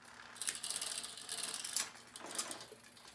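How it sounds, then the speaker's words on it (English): A bar-end bicycle shifter on a micro mount clicking as it is moved to the lowest gear, a quiet, close run of small ratcheting clicks with brief pauses and no speech. "we'll slack the cable by shifting to the lowest gear"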